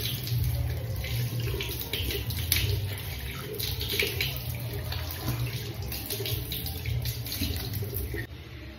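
Water runs steadily from a bathroom basin tap during face washing, a continuous close splashing stream with small drips and clatter throughout.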